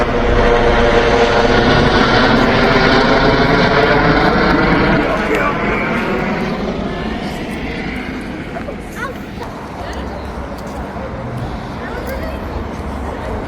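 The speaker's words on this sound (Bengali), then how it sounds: "একটা হেলিকপ্টার যাচ্ছে" An aircraft engine drones loudly overhead, steady at first and then slowly fading into the distance, during an outing in England with people chatting nearby.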